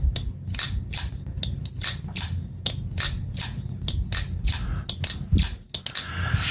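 A TKell KS1 crossbar-lock folding knife with a carbon fiber handle being flicked open and shut on its pivot bearings, a rapid run of sharp mechanical clicks and snaps repeating close up over low background rumble.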